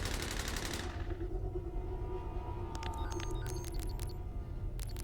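A gunfire burst from the Lovecraftian RPG Paracom, a dense rattling volley at the start that fades into a low rumble, followed by faint scattered metallic clicks and pings.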